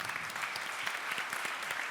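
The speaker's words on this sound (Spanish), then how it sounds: "les pido un aplauso para ellos" An audience at a biologicals and biocontrol conference claps steadily, a dense, even wash of applause that holds throughout without voices over it.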